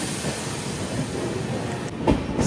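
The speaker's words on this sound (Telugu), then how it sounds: "నెల్లూరులో ఒక 1 మినిట్ స్టాప్ తర్వాత మన ట్రైన్ అయితే స్టార్ట్ అయిపోయింది" The Visakhapatnam Weekly SF Express pulls out of Nellore after a one-minute stop, with a steady rumble and rattle of the coaches, a few sharper clanks near the end, heard from on board.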